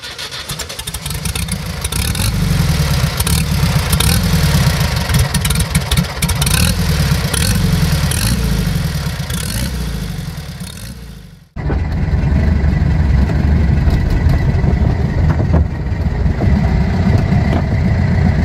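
A 1980 Volkswagen Brasília engine idles steadily and close by, a dense rhythmic rumble that drops out abruptly for a split second midway before running on just as strongly.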